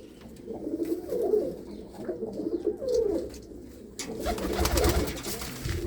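Pigeons in a loft, racing birds flown in long-distance competitions, coo in low throaty rolls, several close calls overlapping before a louder rustling burst near the end.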